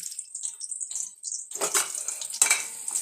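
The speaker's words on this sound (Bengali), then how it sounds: "ভালো করে নেড়ে ছেড়ে দিচ্ছি" A spatula clinks and scrapes against a pan, sounding like a metal pan being stirred with sliced green chillies, chopped garlic and onion, in light rhythmic strokes that grow busier and wetter in the second half, close up with no speech.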